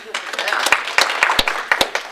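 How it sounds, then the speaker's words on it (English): A conference audience at an Australian SharePoint event gives a round of applause, with scattered, uneven claps and a few sharp, close hand strikes standing out against the crowd. "we should give them a round of applause"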